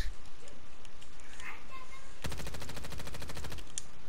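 Rapid automatic gunfire from a video game shooter, an old meta gun, fires a sustained burst lasting over a second after a quieter stretch of game sounds, loud and continuous under light talk.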